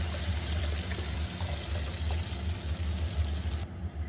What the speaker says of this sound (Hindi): और अब मैं इसमें पानी शामिल करूंगी।